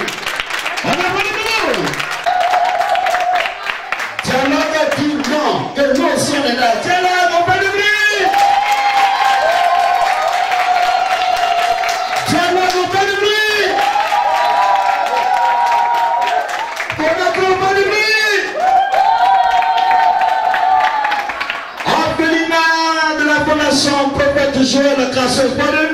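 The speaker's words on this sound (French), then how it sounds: "on applaudit, on applaudit, on applaudit" A crowd at an NGO headquarters during a founding president's official visit applauds and cheers under loud amplified chanting and singing, the clapping continuous beneath the voices.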